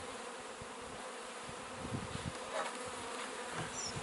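Honey bees buzz steadily at an open hive during queen-cell work with brood and honey frames, a dense, continuous drone close by, with a few brief knocks from handling.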